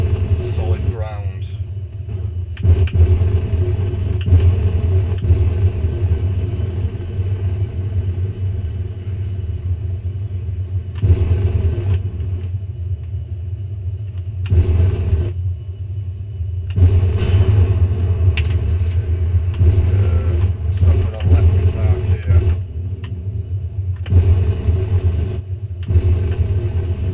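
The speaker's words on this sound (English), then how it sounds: "Atmospheric engines are working, so let's just see if we can find somewhere better to land." Atmospheric engines on a craft in the Space Engineers video game give off a steady, deep, continuous rumble, with brief louder bursts breaking in now and then over almost half a minute.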